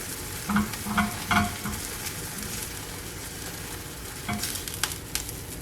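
Spring mushrooms frying in a pan, a steady close sizzle with a few stirring scrapes and clicks near the start and again toward the end.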